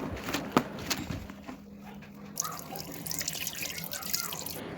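Water runs and drips in a washroom sink while clothes, a uniform and a bedsheet, are set to soak, with close splashes early and then a steady, moderate flow.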